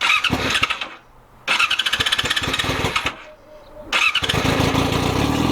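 A loud Yamaha R6 sport motorcycle engine cranks and fires in three bursts, its exhaust revving harshly with a rapid pulsing rumble and brief quieter gaps between.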